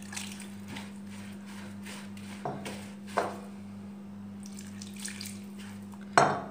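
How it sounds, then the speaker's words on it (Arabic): Tap water is poured into a semolina harcha dough mixture flavored with thyme, giving soft intermittent splashes and trickles close by over a steady low electrical hum, with a sharper splash near the end. "الماء غير ديال الروبيني عادي"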